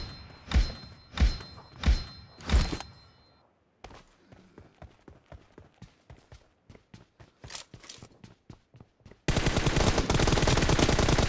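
Video game gunfire in a rapid exchange: four heavy booming shots, then a quick series of sharper, lighter cracks, ending in a sustained loud burst of continuous firing.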